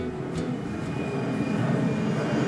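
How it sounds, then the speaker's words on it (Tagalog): Airplane passing over a dense, crowded Hong Kong neighborhood, a continuous low engine rumble that swells slightly and stays loud throughout, heard with no voices. "May aeroplano."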